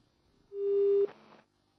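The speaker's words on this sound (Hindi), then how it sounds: "चलिए फिलहाल फोन कट गया।" A telephone busy tone sounds after a caller's line is cut off, one steady electronic beep lasting about half a second, followed by a faint trailing burst, otherwise quiet.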